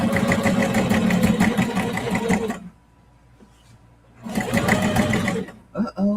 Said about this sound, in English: it ain't gonna be pretty, but it's gonna be stitched down